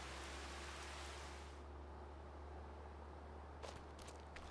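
Heavy rain pours down in Farming Simulator 25 as a dense, steady hiss that thins midway, with a few soft knocks and footstep-like taps near the end and no talking.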